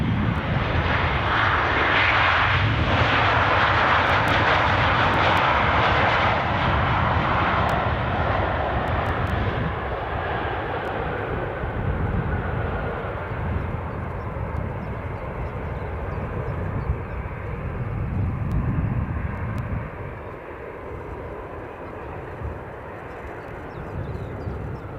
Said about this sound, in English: This will be our evening Porto flight.